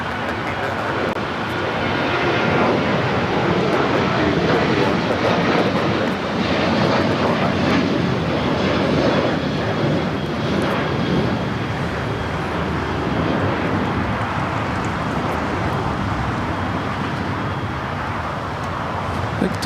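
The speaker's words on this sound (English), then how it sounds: "That flight heading to Vegas, 737-800, the United Airlines flight 2251" A United Airlines Boeing 737-800 jet on a flight to Las Vegas takes off at LAX, its engines building to a broad, sustained roar that slowly fades, with people talking over it.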